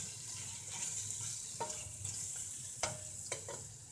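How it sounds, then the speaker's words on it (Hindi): Chicken with onions fries softly in a pan for achar gosht, a low steady sizzle broken by a few light scrapes and clinks of a stirring spoon, quiet and close, with no speech. "चिकन हमारा भुन चुका है।"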